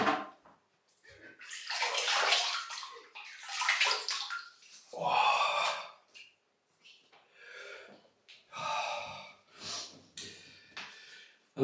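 Running tap water splashed onto the face before a wet shave, several close bursts of splashing and trickling separated by brief pauses, with breathy snorts between.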